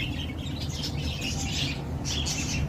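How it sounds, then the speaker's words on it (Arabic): Lovebirds kept for sale chirp in a rapid, overlapping series of bright tweets, fairly close and continuous over a low background murmur. "عندكم ايضا طيور الحب، اللي يحب طيور الحب يشتري"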